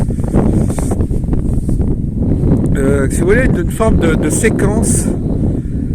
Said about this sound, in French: Il y a du vent, ça y est.